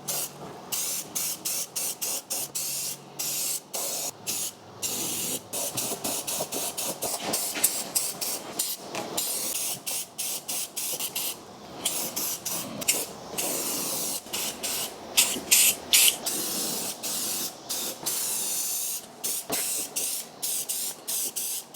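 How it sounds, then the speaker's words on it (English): Gray spray paint hisses from an aerosol can onto a wooden woodworking project in a long run of close, steady bursts separated by brief pauses, with no talking. "I'm actually going to spray paint this gray color"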